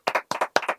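Audience applause at the close of a gaming show episode: a short burst of a few sharp hand claps in a quick uneven rhythm, close and clear with no talk.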